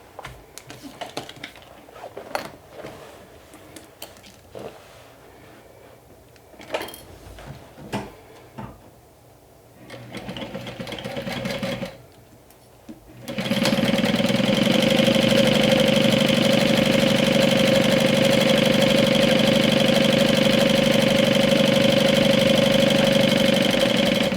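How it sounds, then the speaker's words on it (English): A sewing machine stitching a fabric seam: a few scattered clicks and handling sounds, a short run, then a loud continuous motor whir that holds steady for the last ten seconds. "So we're gonna sew this with a 1/2 inch seam allowance."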